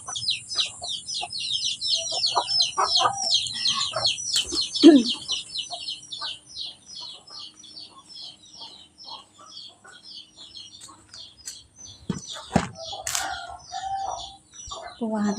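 Chickens cluck and a rooster crows in the open near green rice paddies, with a dense wash of bird chatter throughout and scattered louder calls at mid-distance.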